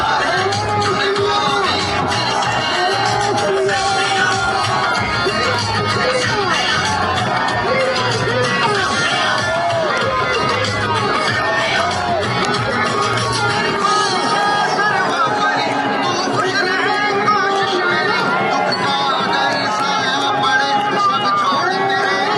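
A large crowd at a roadside political road show, a dense continuous babble of many voices with cheers and shouts, loud and close, over a rhythmic beat that drops out partway through.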